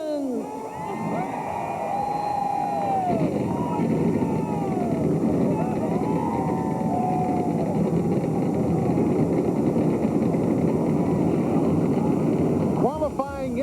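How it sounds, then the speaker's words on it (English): Massed NASCAR stock car engines firing up at the start of the 1999 Dura Lube Kmart 300, a loud, continuous roar that builds and holds for many seconds, with crowd noise mixed into the thick, sustained din. "Gentlemen, start your engines."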